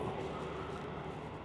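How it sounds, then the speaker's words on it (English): A faint, distant train rumbles past with a steady low roar and a soft hiss, heard from inside a tent at a campsite, fairly quiet throughout. "That's just a train going past"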